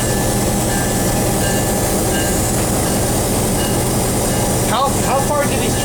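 A museum train at the Gold Coast Railroad Museum in Miami, Florida starts to roll along the tracks with a loud, steady rumble. Brief wheel squeals rise near the end, and voices can be heard faintly in the background.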